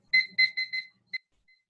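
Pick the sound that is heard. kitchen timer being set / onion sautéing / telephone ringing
kitchen timer being set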